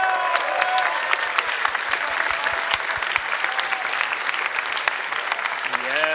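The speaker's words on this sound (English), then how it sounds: "big applause for Zain Kanani" A crowd applauds steadily at a Rubik's cube championship event, dense even clapping sustained throughout, with a few distinct nearby claps standing out and a voice briefly heard near the end.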